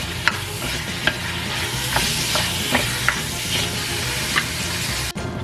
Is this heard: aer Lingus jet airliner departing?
no